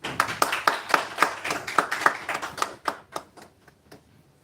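A small conference audience claps to welcome guests, a run of distinct close hand claps that quickly thins to a few scattered ones and fades out, with no talking.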